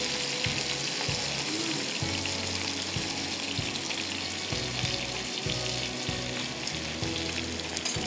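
Vegetables sizzle steadily in herb butter in a pan, a loud continuous frying hiss with soft stirring knocks, no talk over it.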